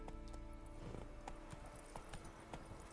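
Roach, the horse in a Witcher game, clip-clops at a steady trotting pace over a continuous ambient bed. The hoofbeats are soft and moderately distant, and a faint whinny is heard.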